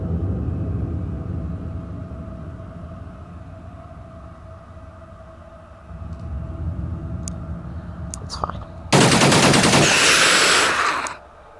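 Heavy rifle fire erupts in the Alien Outpost video game, a loud sustained burst of automatic shots following a low rumbling ambience and a few scattered clicks.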